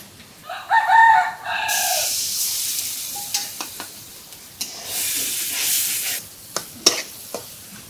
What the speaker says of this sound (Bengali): আর মাছটা ভালোভাবে ভাজিয়ে নেব